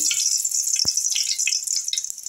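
Two dried red chillies crackling in hot oil in a wok, a steady bright sizzle with small pops and spits running throughout.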